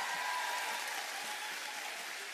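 Audience applause at an unplugged concert, heard as a dense, even wash of clapping from a large crowd, steady and fairly soft throughout.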